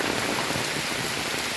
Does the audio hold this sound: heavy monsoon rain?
yes